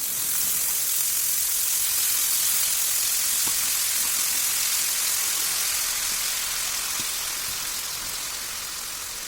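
Turmeric-cleaned prawns fry on a hot dosa pan, giving a steady, loud, close sizzling hiss that runs unbroken throughout with faint crackles and no voices.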